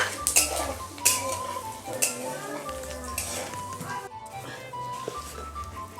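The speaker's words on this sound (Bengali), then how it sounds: "ফোড়নটা ভালো করে ভেজে নেব।" Bay leaves, a dried red chilli and whole cumin fry in hot oil as a spoon stirs and clatters against the pan, giving a soft sizzle broken by metallic scrapes, with quiet background music.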